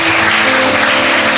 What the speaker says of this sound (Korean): 모두에게 감사 박수 하세요